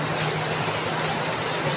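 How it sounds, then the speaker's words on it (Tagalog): Heavy rain pours steadily outside a house during a sudden downpour, with floodwater rushing through an overflowing canal, a dense, continuous roaring hiss. "Biglang lakas po yung ulan, ang lalim po ng tubig."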